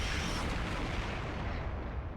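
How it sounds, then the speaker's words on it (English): A massive explosion in the video game Master Detective Archives: Rain Code, a dense, roaring wall of rumbling noise sustained loudly throughout. "No one survived the explosion."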